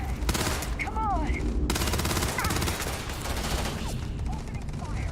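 Rapid automatic gunfire during a fight in the space game Starfield, a sustained crackling fusillade with brief pauses, alongside faint whistling effects and some voice sounds in the background.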